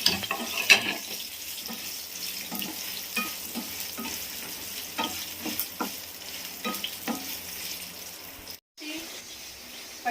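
Green chillies and garlic frying in a pan for gongura chutney, a steady soft sizzle with occasional stirring scrapes and clinks, close by, with no talking.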